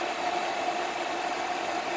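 The engine of a 1966 Catagator with hydrostatic drive runs steadily, a continuous idling hum with a faint whine, close and unchanging, with no talk.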